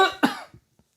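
A man gives a single sharp, close cough, followed by a few faint breaths and then quiet.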